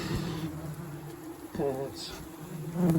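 Yellow jacket wasps buzz steadily inside an extracted paper nest with comb, a continuous close drone that swells and fades with some background noise.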